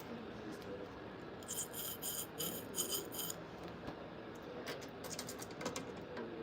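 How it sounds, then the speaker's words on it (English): Faint rubbing and rasping from cleaning out the crankshaft journals of a BTR engine crank, coming in short scrubbing bursts close by over quiet background hiss. "getting the crank journals cleaned out a little bit"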